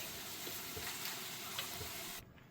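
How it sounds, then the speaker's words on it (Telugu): Paneer biryani mixture being stirred gently in a pot, a faint, soft sizzle with quiet scraping strokes spread evenly throughout, with no talking, before it cuts off near the end. "ఇప్పుడు ఇదంతా మనం చక్కగా కలిపేసుకుందాం"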